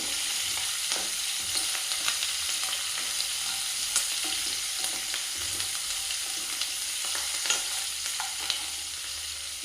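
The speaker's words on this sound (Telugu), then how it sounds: "పచ్చిమిరపకాయలు, కొంచెం ఆయిల్లో ఫ్రై చేసుకోవాలి." Green chillies sizzle and crackle in hot oil in a pan for a Telugu vermicelli upma, a steady close frying hiss with occasional stirring scrapes, no voices.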